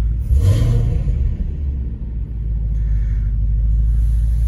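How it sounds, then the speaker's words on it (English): A Whipple supercharged 2019 Ford Mustang GT with Corsa exhaust gives a single loud, close rev that swells and falls back to a deep, steady idle rumble. "we're gonna give it a little rev"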